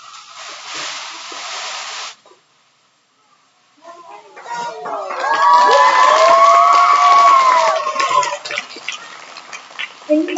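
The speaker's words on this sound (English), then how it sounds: "let's give Harper one more big round of applause" Children at an elementary school pep assembly erupt in loud cheering and shouting after a brief hush, a dense crowd roar that swells and then tapers.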